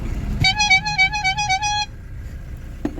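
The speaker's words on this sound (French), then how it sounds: "il y a Newton qui a entendu le klaxon" A camper van's horn honks in a quick run of short toots over about a second and a half, loud and close, then stops, leaving quiet outdoor background with a brief knock near the end.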